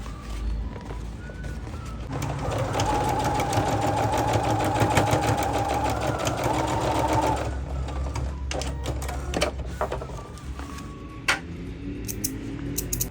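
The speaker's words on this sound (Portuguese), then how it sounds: "E agora vou passar uma costura para fechar a parte de cima" A sewing machine hums and clatters close by, stitching the seam that closes the top of a men's African eketé (filá) cap, running steadily for several seconds before slowing into a few scattered ticks and clicks.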